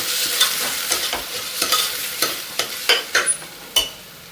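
A spoon stirs a pot of toor and moong dal with turmeric, giving about a dozen distinct scraping strokes at an irregular rhythm over a faint sizzle, close and fairly loud, with no talking.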